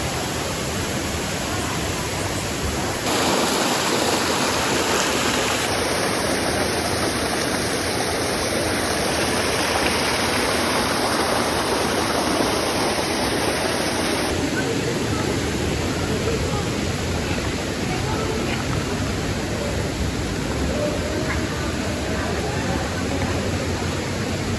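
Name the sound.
waterfall, Marilag Falls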